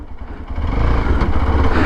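A Hero Xpulse 200 4V motorcycle pulls off in first gear over rough ground, its engine rising from a low idle thump to a louder steady drone within a couple of seconds, close by.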